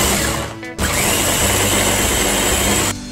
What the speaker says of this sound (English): blend up the hot Cheetos in a food processor